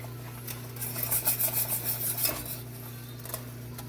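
A spoon stirs shredded coconut into German chocolate cake frosting in a pot with the heat off, giving soft scraping and clinking strokes against the metal, close and steady, over a low hum.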